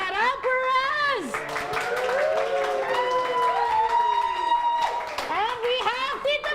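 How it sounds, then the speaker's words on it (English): An outdoor Filipino cultural festival crowd cheers and claps to cast a vote; sustained shouting voices ride over a layer of applause, loud and near throughout. "Everybody, by sound of applause and cheers,"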